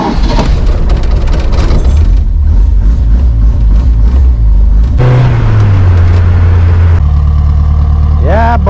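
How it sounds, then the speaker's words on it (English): A car engine being cranked after a repair, with several rough, rhythmic cranking bursts before it catches and runs at a louder, steadier pitch; people talk nearby. "She's gonna take a couple cranks."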